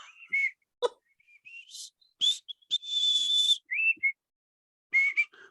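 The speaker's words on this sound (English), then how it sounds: "they all start whistling fucking Hitler has only got one ball" Someone whistles the tune Hitler Has Only Got One Ball, a halting melody of short notes and one longer held tone, with gaps of silence between phrases.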